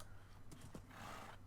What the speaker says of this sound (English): Okay, here's some more horses.